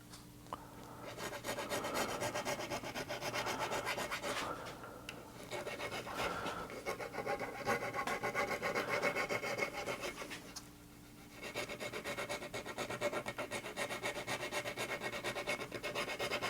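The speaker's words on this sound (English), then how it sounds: "I have finished leveling, crowning, and dressing the frets." Metal files rasping steadily across guitar frets during fret leveling, crowning and dressing on an oak guitar build, a close, continuous scraping broken by a couple of brief pauses, with no talking.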